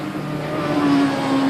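Race cars on the front straight at Manfield, New Zealand, during the 1988 Castrol 6 Hour endurance race, a loud, continuous engine drone with a rising whine as a car passes close.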